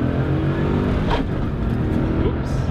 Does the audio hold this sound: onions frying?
no